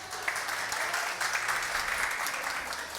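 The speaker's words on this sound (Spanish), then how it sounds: "Un aplauso, un aplauso." Audience applause in a hermeneutics class, a sustained, even patter of clapping heard from a little distance for about three seconds.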